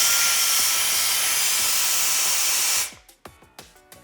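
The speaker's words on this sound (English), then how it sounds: "And this is the medium speed." A Wolfbox MF100 electric air duster runs at medium speed, giving a loud, steady, airy hiss for nearly three seconds before cutting off abruptly, followed by a few faint clicks and knocks.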